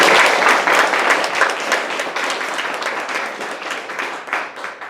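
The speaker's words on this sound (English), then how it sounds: "Round of applause please." An audience at a university English faculty speech contest claps together in a sustained burst of applause that slowly fades, dense and close.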